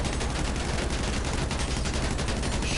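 Heavy, sustained gunfire in GTA V pelts the armored rear of the Duke of Death muscle car, a dense rapid rattle of shots running continuously at high loudness throughout.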